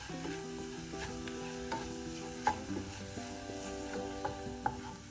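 Chicken liver with pepper powder is stirred in a pan with a spoon, giving faint scraping and clinking taps over a low sizzle, with a few sharper knocks against the pan's side and no talking.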